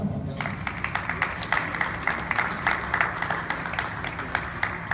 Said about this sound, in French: Merci d'applaudir l'équipe d'Argentan.